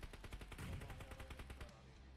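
Rapid automatic gunfire in a video game shooter, a steady burst of loud, evenly spaced shots lasting about two seconds with no talk.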